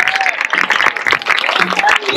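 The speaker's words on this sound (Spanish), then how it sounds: "A ver esas palmas arriba, chicos." A crowd claps along before the start of a night trail race in Alpedrete, with uneven bursts of applause and shouting close by.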